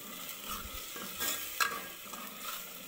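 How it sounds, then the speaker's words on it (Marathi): Chicken pieces frying in oil in a pan, cooking for chicken soup: a faint, steady sizzle with a few soft stirring scrapes and clinks, no voices. "आता एकदम याला तेल सुटेपर्यंत चांगलं भाजू द्यायचं"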